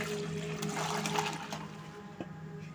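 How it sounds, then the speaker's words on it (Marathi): Milk is poured back and forth between containers several times, producing a continuous splashing, gurgling liquid stream, moderately faint and close, with no talk. "आणि ते दूध ह्याच्यामध्ये ओतायचं."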